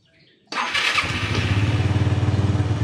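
After a short quiet moment, a Jialing Spin SR motorcycle engine suddenly fires up and settles into a loud, steady, throbbing idle close by.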